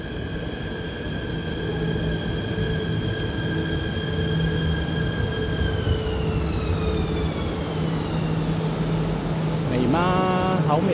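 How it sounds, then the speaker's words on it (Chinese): An ETS electric train in Malaysia, heard from a station platform, hums steadily with a loud, sustained tonal whine that slowly falls in pitch. A short rising electronic tone sounds near the end. "这辆火车是会比较快的，它是 Bullet Train。"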